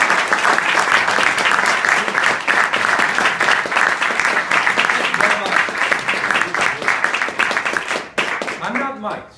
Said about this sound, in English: please give a warm applause to